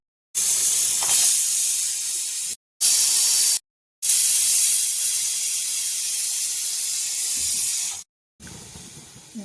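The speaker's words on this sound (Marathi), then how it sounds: "2 ते 3 आपल्या कुकरच्या शिट्ट्या झालेल्या आहेत." A pressure cooker whistling as raw mangoes cook inside, several loud sustained hissing steam blasts separated by short silent breaks, close and heard alone.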